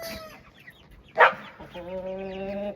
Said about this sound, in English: I got my Rhode Island Red rooster.